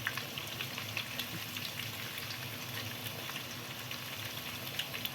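Cauliflower frying in plenty of oil, with a steady hissing sizzle and scattered small pops and crackles, moderately quiet and close, heard alone without speech.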